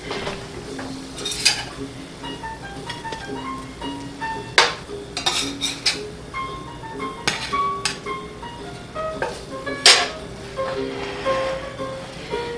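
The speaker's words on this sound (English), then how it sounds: "we'll take this piece out of our skillet and lay it down" Piece of banana bread lifted from a skillet onto a plate in a kitchen, heard as close clinks, scrapes and light clatters of metal utensil against pan and dish, irregular and fairly quiet.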